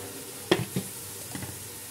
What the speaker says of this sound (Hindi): थोड़ी सी भुनाई करूँगी